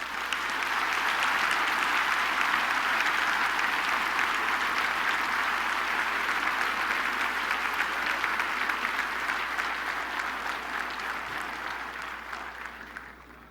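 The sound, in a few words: congregation applauding loudly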